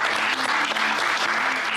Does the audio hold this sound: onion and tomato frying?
no